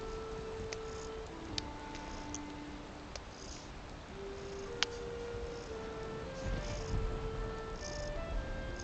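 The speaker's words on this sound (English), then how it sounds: "Why are you meowing at me, Meow?" A cat meows faintly a few times in a quiet room, with soft ticking and light background noise around it.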